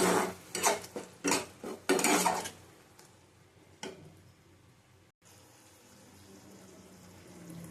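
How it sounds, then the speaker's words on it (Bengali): Spice masala with tomato being stirred and fried in a pan for a potato and pointed gourd curry with fish, heard as several loud scraping clatters of a spoon against the pan early on, then a single knock over a quiet background. "ভালো করে মশলাটা কষিয়ে নেব।"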